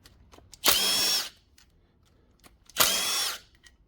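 A power tool spins out valve cover bolts on a 2006 Subaru during a head gasket job: two loud, close bursts of high-pitched whirring, each under a second long, separated by a pause with faint clinks and no speech.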